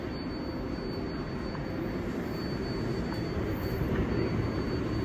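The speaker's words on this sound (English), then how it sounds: "Speaking of another 7 train, here's one right here." New York City subway 7 train at a Manhattan station, a steady loud rumble of the train running through with faint squeals and hiss, continuous and even throughout.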